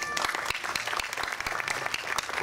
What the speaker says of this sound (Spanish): De las palmas para el representante de los padres de familia de esta hermosa promoción.